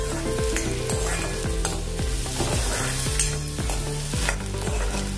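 Onions frying in a pan for a palak mooli curry, with a steady sizzle and repeated scraping stirs of a spoon at a regular rhythm, close and loud, no voices.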